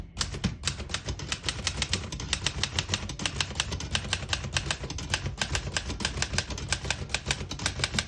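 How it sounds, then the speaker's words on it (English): Rapid, evenly paced typing on a 1947 Remington De Luxe Model 5 portable typewriter, a long run of crisp, close mechanical key strikes clacking one after another without pause. "I'll type a sentence on the next line."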